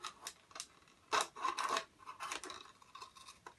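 Scissors snip and rasp through a plastic bottle in a series of short, scratchy cuts, close and fairly quiet, with no speech.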